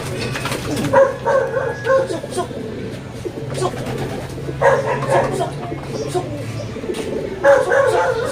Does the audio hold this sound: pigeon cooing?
yes